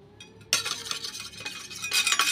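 Spice mix with a little chilli powder being stirred in a pan, a sudden close scraping swirl starting abruptly and continuing in rough strokes, no voices.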